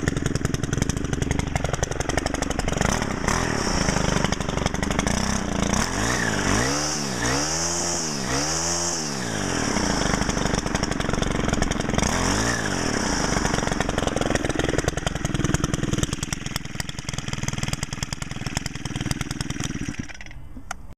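A Stihl FS38 string trimmer's small two-stroke engine runs steadily nearby for the whole stretch, revving up and down in a few swells before settling back to a buzzing drone.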